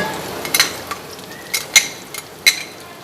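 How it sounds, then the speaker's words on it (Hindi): Ginger-garlic paste hits browned onions over high heat for a okra and chicken dish, a soft sizzle punctuated by several loud metallic clanks of a spatula against the pan. "तो अब हम इसमें लहसुन अदरक का पेस्ट भी डाल देंगे।"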